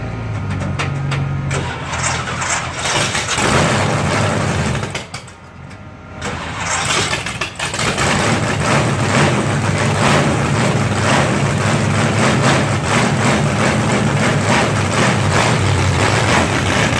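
A dragster engine fires up loudly at a mall car show, roaring, dipping briefly, then settling into a loud, rough, steady idle close by.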